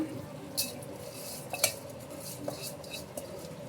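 Rice being stirred into tomato masala in a pot, with a few close metallic clinks and scrapes of a spoon against the pot over a faint background hiss, no voices.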